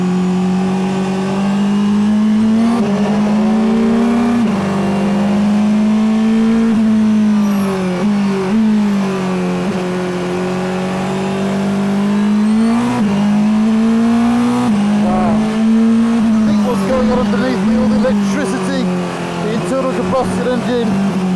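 A Porsche engine revs hard and steadily, pitch rising and falling through gear changes and corners on a wet track, loud and close, with someone talking over it.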